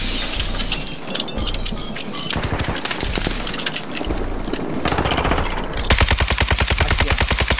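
Gunfire in the video game Call of Duty Warzone 2.0, loud close bursts of rapid automatic shots, ending in a fast, steady stream of rounds.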